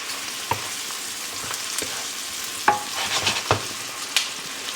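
Mushrooms and spinach cook down in a pan with a steady close sizzle, broken by occasional scrapes and taps of a utensil stirring.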